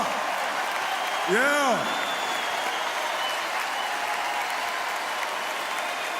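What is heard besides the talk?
arena crowd giving a standing ovation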